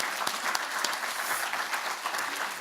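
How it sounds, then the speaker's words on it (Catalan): Warm, continuous audience applause at an award ceremony, a steady dense patter of many hands clapping at an even level throughout. "la primera cosa que jo voldria fer és un aplaudiment molt fort per tots"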